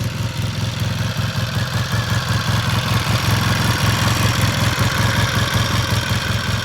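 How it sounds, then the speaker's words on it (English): A 1973 Triumph TR5T Trophy Trail's 500cc twin-cylinder engine with Siamese 2-into-1 pipes idles steadily and loudly up close, with an even throbbing exhaust pulse and no voices. "twin-cylinder engine"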